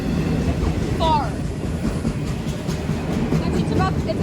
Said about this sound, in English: This train is huge.